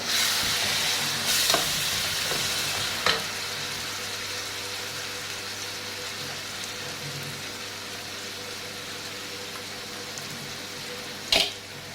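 Tomatoes frying with browned onions in a pan for a fish dish, a steady soft sizzle and crackle running throughout, with a few sharp clinks of a utensil against the pan, no talking.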